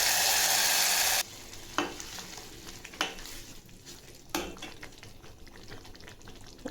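Cooked, finely chopped methi and shepu (fenugreek and dill) gargatta dropped into a hot tempering with fried tomatoes: a loud oil sizzle first, then settling into a steady frying hiss with a few stirring scrapes.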